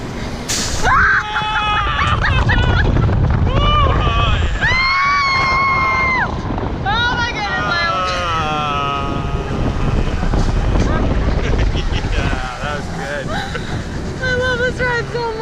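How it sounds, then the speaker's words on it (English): Roller coaster ride at a beachside amusement park, a loud sustained rumble of cars on track with riders screaming and whooping throughout, voices shouting over the roar. "I love roller coasters."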